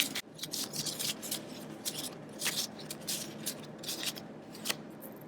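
Soft, continuous papery shuffling and rustling of tabletop game cards close by, with scattered light ticks and scrapes, no voices.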